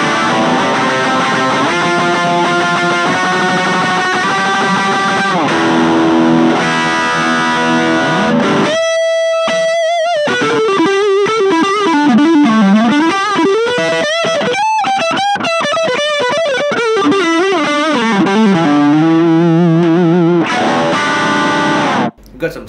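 An electric guitar plays a lead line through a micro-sized amp with a driven, distorted tone, sustained bends and runs after a brief pause, continuing for over twenty seconds.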